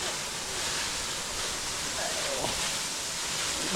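A waterfall near a village, heard as a steady broadband rush of falling water that fills the scene evenly, with a faint brief voice-like tone partway through.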